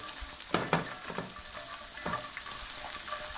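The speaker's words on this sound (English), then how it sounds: "I'm just going to allow it to saute in this and absorb all the goodness into this creation" Cashew nuts saute in a pan with aromatics, giving a soft, constant sizzle broken by a few sharp scrapes and stirs of the spoon, fairly close and without talk.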